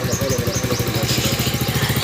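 A motorcycle engine idles close by with a rapid, even, throbbing pulse and a slight clatter, running steadily on its own with no voices.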